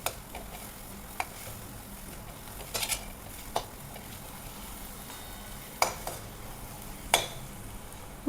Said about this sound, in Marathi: मसाले छान यामध्ये परतून घ्यायचे।